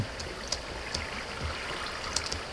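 Flowing water in the Minecraft video game, a steady soft wash of trickling, stream-like noise with a few faint clicks, quiet and continuous throughout.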